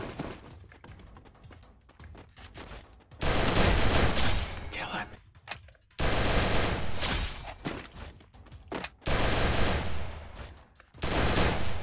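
MP40 submachine gun fire in a mobile shooter game, heard as several loud sustained bursts of rapid automatic shots broken by short pauses, with brief talk between the bursts.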